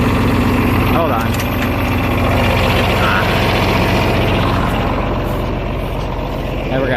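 A John Deere 4010 tractor drives in fifth gear pulling a disc, its engine a loud, steady, close rumble that holds without a break.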